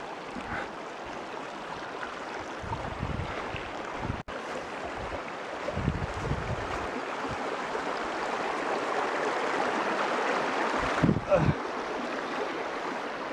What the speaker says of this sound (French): Encore des ruisseaux.